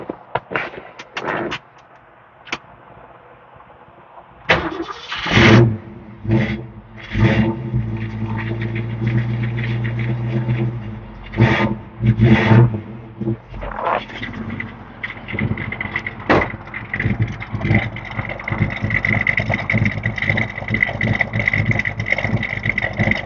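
A 1966 Ford Mustang coupé V8 cranks and fires after a few quiet moments, then settles into a loud, rumbling idle with sharp blips and uneven throbbing pulses, heard close up.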